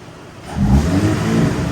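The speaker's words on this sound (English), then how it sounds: "Can you give it a little rev? I want to hear it." A 2021-2024 Ford Raptor pickup engine with an aftermarket JLT intake revs up from a low idle into a loud, steady growl that holds at higher speed, close by.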